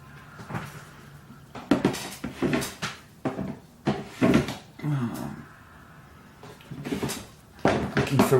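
Wooden drawers and cupboard doors slide and knock open and shut during a search, with items clattering inside; a run of sharp, uneven bumps and rattles at close range, separated by short pauses.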